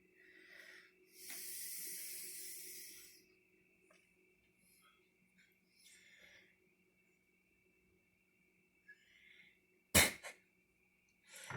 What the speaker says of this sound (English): stroking a pan with a piece of butter